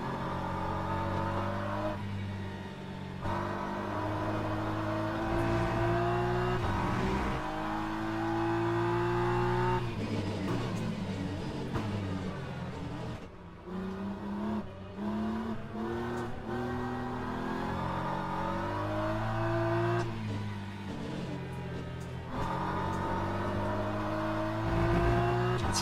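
A race car engine in RC PRO whines and climbs in pitch as it accelerates, easing off and revving up again in repeated loud surges, with no talk.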